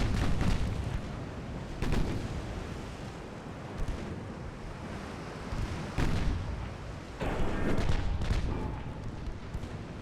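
Warship broadside gunfire in the naval battle game Ultimate Admiral Dreadnoughts booms out in several deep, heavy blasts spread over the span, each rolling into a rumbling wash of sea and battle noise.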